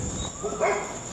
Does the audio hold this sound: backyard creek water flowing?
no